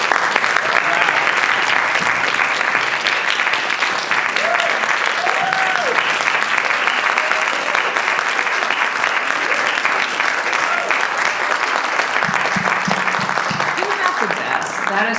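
Sustained audience applause for formerly incarcerated people standing up at a criminal legal practice session, a thick, even wash of clapping from a large crowd that holds steady throughout.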